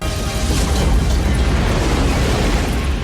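A loud, dense explosion roar from the film Independence Day fills the whole stretch, a broad rumbling blast that stays heavy and sustained without pause.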